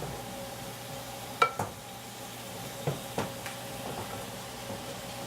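Squash pieces dropped into a pan of simmering onions, several soft thuds and clinks spaced apart over a low steady sizzle, close by with no talk.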